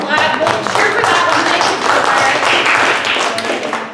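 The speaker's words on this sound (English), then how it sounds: "We'll cheer for that" A town hall audience in Salinas, California claps and cheers in a dense, loud, sustained burst of applause that fills the space evenly for the whole stretch, with voices mixed in among the hand claps.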